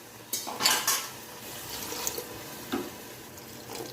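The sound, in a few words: water poured into the pot of beef lobia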